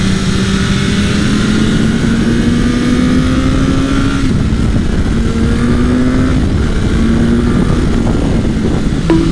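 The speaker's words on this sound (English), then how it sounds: "Really love how this engine sounds." A 165 hp 2022 BMW S1000R motorcycle engine runs loud and close throughout, with a steady high-pitched whine that climbs through rising revs, dips briefly, then climbs again.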